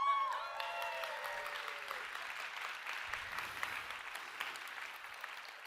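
Sustained audience applause fills a room as a presenter is welcomed on stage, steady dense clapping throughout with a brief whistle or cheer at the start.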